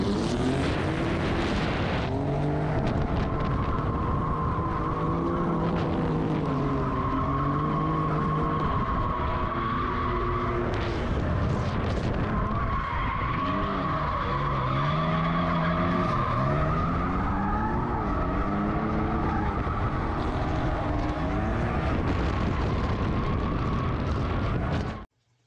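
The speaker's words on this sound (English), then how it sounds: "I found an instance of a 3000 GT VR4 being used as a drift car." A Mitsubishi 3000GT VR-4 drifts with loud, sustained tire screeching that rises and falls in long wavering squeals over a roaring engine, close and continuous.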